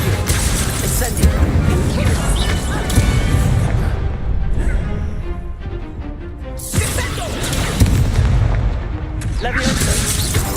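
Fiery Incendio spell blasts in Hogwarts Legacy combat, a run of loud crackling bursts and crashes with a quieter lull midway before the blasts resume, voices talking over the action.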